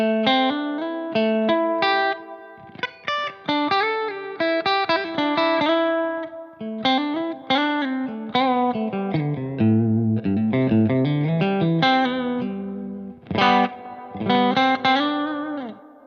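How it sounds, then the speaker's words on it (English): Electric guitar played through an 80s-inspired stereo pedalboard preset with subtle delay and a shortened reverb, a clean melodic lead line with sustained notes and soft echoing tails, played alone without talk. "Preset A is kind of a variant of that. The delay is a lot less obvious. The reverb is a little shorter."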